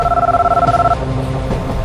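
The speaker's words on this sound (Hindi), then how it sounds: "थोड़ी देर में मेरा फोन बजा" A mobile phone rings on a train: a loud, warbling electronic ringtone pulses for about a second, then gives way to quieter rumbling background noise.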